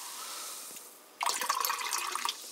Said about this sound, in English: you open up this pineapple and passion fruit carbonate fizzy water and you pour it into this mug